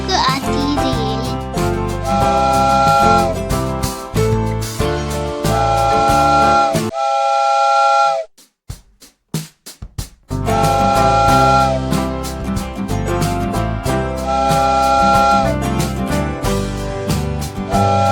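A steam train whistle and hissing burst of steam break in around the middle of a bouncy Hindi children's rhyme about a train, with singing and music before and after.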